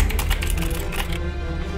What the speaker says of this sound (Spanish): Tipear con los blues sonaría así.